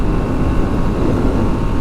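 A moped engine fitted with nitrous roars continuously at full speed, a dense loud rumble with wind buffeting, no talk.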